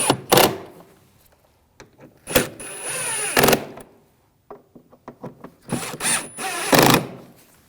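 Power tool tightening the rear shock absorber bolts on a 2006-2009 Audi S4, heard as three loud, close bursts of whirring and rattling spaced by short pauses, with faint clicks and handling noises between them.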